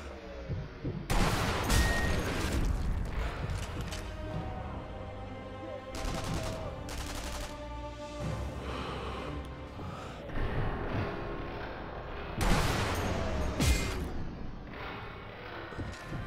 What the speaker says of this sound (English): that guy, like he got a machine gun. Who else is he shooting at?